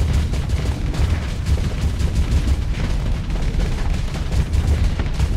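Missiles launching and detonating in the space game Starsector during a ship battle: a steady, rumbling barrage of booms and blasts, continuous and fairly loud, with no voices.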